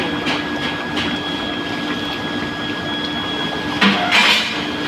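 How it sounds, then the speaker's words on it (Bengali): Fried potatoes going into a pot of boiling thin mutton curry, heard as steady bubbling hiss with a constant tone, then a clatter of utensil against pot near the end. "ঝোল ভালোভাবে ফুটে গেছে এবার ভেজে রাখা আলুগুলো"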